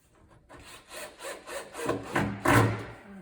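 Screws being driven into a wardrobe's wood panel during flat-pack assembly, a series of rising grinding bursts that grow louder and end in a final strong drive, with no talk.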